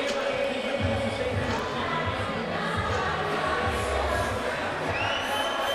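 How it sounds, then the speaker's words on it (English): Crowd at a live MMA event, CES MMA's Rise or Fall card, roaring and cheering as a Rhode Island fighter walks to the cage, a loud sustained wash of noise with a commentator's voice talking over it. "as the crowd's getting pumped up"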